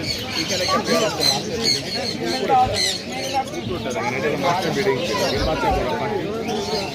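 Many caged birds squawk and chirp at the crowded Mirpur 1 bird market, their calls mixing with a continuous babble of people talking nearby.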